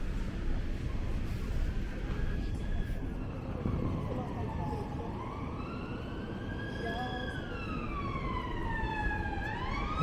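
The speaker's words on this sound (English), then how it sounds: "Plenty of sirens going off." Police sirens wail in rising and falling sweeps over steady, loud traffic rumble, growing more prominent toward the end.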